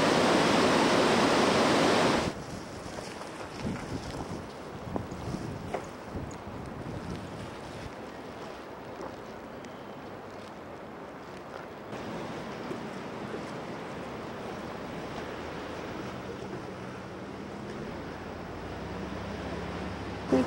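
A waterfall in Yosemite pours hard into a pool, giving a steady broadband rush with wind buffeting the microphone. A brief louder burst comes at the start, then the roar settles beneath scattered handling noises.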